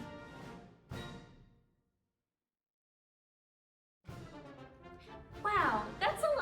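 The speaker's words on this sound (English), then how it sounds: "Once we're ready, we will put our instrument up and the trumpet will sound like this." A trumpet sounds two short notes, then a pause of silence, followed by a longer bright phrase that rises at the end, heard clearly and close.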